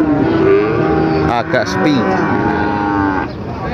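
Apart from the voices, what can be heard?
cattle mooing at livestock market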